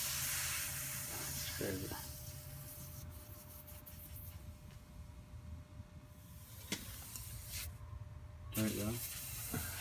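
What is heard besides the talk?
refrigerant hissing as it outgasses from open compressor oil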